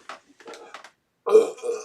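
A person lets out a short, close burp after a few quiet throaty sounds.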